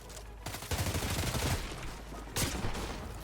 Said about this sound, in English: I'm getting shot in the back.